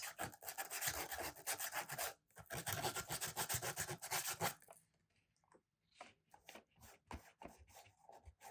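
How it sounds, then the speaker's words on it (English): Loose sandpaper rubs briskly against a paper craft lantern in two long, close stretches of steady scratchy strokes, then a brief pause followed by a few lighter, scattered scrapes. "smaller areas, it might help to have some ancient loose sandpaper."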